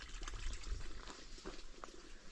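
A small spring beside a trail trickles water quietly, a faint, close, irregular dribbling with soft splashes and low background rumble.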